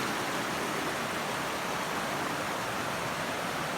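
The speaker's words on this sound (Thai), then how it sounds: "สวยงามมากค่ะน้ำตกสาลิกา" Salika waterfall produces a dense, constant rush of falling water, loud and steady throughout with no talking.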